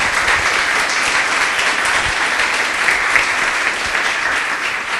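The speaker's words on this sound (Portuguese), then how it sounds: "Louve ao Senhor com suas palmas," A church congregation claps hands firmly in praise during a Portuguese-language service, a loud, steady wash of many hands clapping together throughout.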